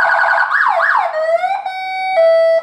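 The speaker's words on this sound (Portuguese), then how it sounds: "E ainda tem uma sirene que é pra tirar onda" Aftermarket six-tone siren installed on a Volkswagen Fusca (Beetle) runs through its tones: two quick rising-falling wails followed by a sustained rising sweep and steady high tones, loud and close with no talking.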